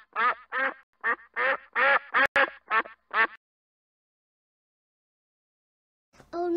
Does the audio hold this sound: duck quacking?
yes